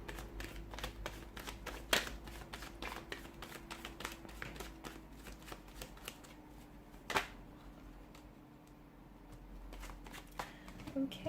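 Tarot cards are shuffled by hand in short, crisp riffling bursts spaced through a quiet room, with sharper snaps near the start and middle and soft handling sounds between.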